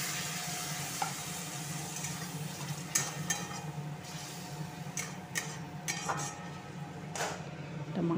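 Masala spice paste sizzling in a pan of browned onions for a kala chana curry, a low steady fry with light scraping and clinks of a spoon or utensil against the pan.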